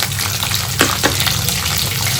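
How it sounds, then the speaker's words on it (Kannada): Garlic and ginger frying in a pan for a village-style Lima beans chicken recipe, a loud close hiss with a couple of quick stirring scrapes, no speech. "ಬೆಳ್ಳುಳ್ಳಿ, ಶುಂಠಿ ಹಾಕ್ಕೊಂಡು ಫ್ರೈ ಮಾಡಿ"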